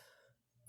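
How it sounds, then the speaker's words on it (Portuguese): A single short cough bursts out at the very end after near silence, fairly close and loud. "Olha a tosse"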